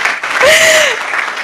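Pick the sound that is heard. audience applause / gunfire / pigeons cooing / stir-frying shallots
audience applause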